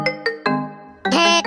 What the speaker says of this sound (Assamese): ধেতেৰি কোনে বা ফোন কৰিলে